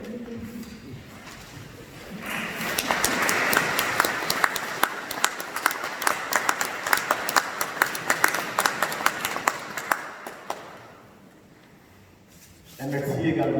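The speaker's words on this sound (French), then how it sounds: "que nous puissions applaudir pour elle." Church congregation claps for Madame Desjardins, a lively burst of many hands that swells quickly, holds for about eight seconds and fades out, with speaking voices before and after it.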